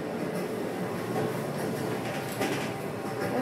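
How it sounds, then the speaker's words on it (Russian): Steady low rumble and hum inside a moving new electric suburban train, with faint rattles and a whoosh of air, no one speaking. "Еду домой в таком шикарной электричке."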